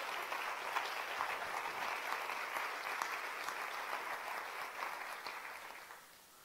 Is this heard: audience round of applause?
yes